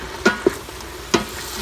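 Sausage sautéing in a pan for red beans and rice, giving a quiet sizzle broken by three short, sharp clicks of stirring or scraping, with no voices.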